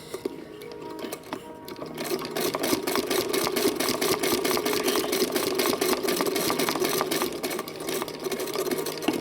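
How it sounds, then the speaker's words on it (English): A sewing machine stitching layers of puppet eyelid fabric together, starting up and then running in a steady, close, fast rhythmic whir with no talk. "So we're going to sew all three together."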